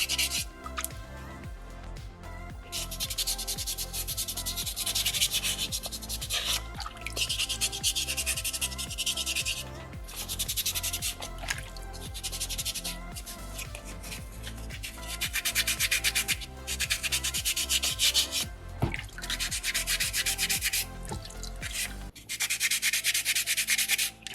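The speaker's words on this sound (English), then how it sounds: "Folding that sandpaper up, tucking it into all those hard to reach areas" Sandpaper folded small and rubbed over a soapstone fox carving, worked into tight crevices: steady, close scratchy strokes repeating in bursts throughout, with a low tonal bed underneath.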